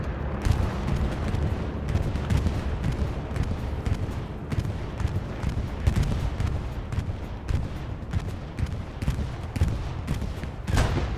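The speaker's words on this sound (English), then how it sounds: "Like a Chimera bombing run." Chimera bombing run in a tank battle game, a dense barrage of booming explosions and crackling gunfire rolling on continuously, heavy low rumble with sharp bursts, no voices.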